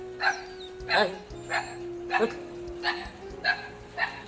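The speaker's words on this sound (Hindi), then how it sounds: "यहाँ कुत्ता रात को भौंक रहा है" At night, around 11 o'clock, a dog barks about seven times at a steady, evenly spaced rhythm, moderately loud and a little distant, while someone briefly says a word.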